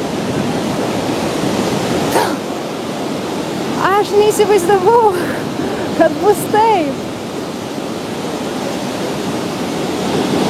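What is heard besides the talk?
Niagara Falls waterfall roaring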